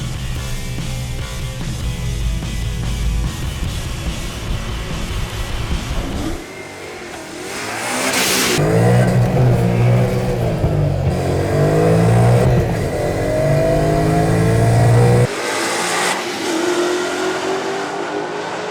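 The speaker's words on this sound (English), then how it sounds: "I'm about ready to get in the car and get this thing down the track" A Vortech-supercharged 2014 Mustang GT idles roughly on a drag strip, then roars into hard acceleration, rising through gears with a loud, strained supercharger whine before cutting off abruptly.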